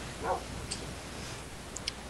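A dog in the Minecraft video game gives a short bark, followed by a couple of small clicks against a steady background hiss, faint and with no voices.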